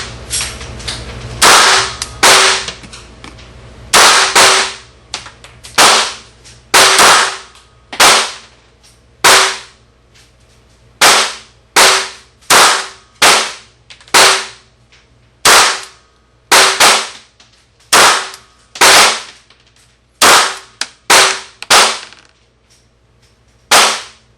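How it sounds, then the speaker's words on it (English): A Bersa Thunder .380 pistol fires Tula 91 grain full metal jacket rounds at a target seven yards away, with many loud, sharp shots in irregular quick strings and short pauses between them. "we're shooting Tula 91 grain full metal jackets"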